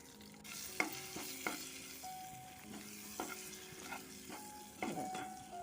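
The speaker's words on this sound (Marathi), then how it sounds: "आणि हे आता चांगलं परतून घ्यायचा आपला मसाला तो." A spoon clinks against a pan at irregular intervals while turmeric and spice masala are stirred and fried, with a soft sizzle underneath. The sounds are quiet and close, with no voices.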